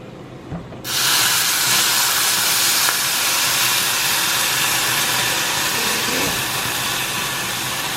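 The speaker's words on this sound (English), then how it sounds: "now that your rice is a bit toasted, you're gonna go ahead and add some boiling water." After a moment of quiet, a loud, sustained sizzling hiss erupts and continues steadily as boiling water is poured onto toasted rice in a hot pan.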